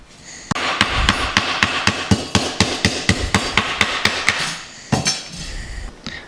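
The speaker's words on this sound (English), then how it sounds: "So now we're gonna smack the crap out of this thing with our tenderizing hammer." Rapid, steady pounding of a meat tenderizing hammer on beef, a dull thudding beat repeated many times in quick rhythm, close and loud, with a brief pause near the end.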